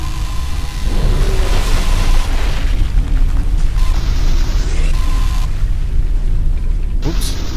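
A loud, sustained explosion in the Forever Skies survival game, a thick rumbling roar with crackling debris and mechanical clanks that carries on steadily throughout.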